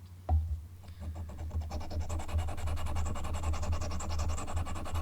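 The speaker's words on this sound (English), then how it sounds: "what you can do is come to the sharpening stone. I'm going to hold this at an angle like that." A wax carving tool is rubbed back and forth on a sharpening stone, making a steady, close, gritty scraping that starts with a sharp tap and continues without pause.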